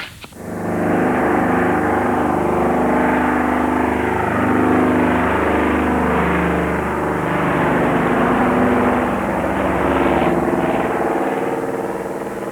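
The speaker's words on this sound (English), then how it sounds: "The plane takes off" A de Havilland Caribou twin-propeller transport plane takes off from an icy Arctic site, its engines rising into a loud, close, steady drone with a strong throbbing hum and shifting tones as it accelerates away.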